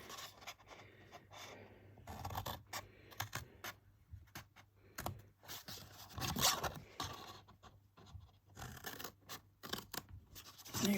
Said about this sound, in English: that's what we've got to cut first. So I'll get my scissors.